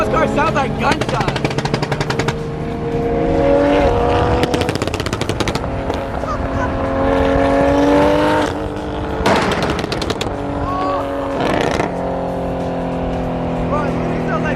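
Nissan Z with a big single turbo revving hard and firing loud, rapid sharp pops like gunshot bursts in repeated volleys between engine sweeps, with voices talking amid the noise.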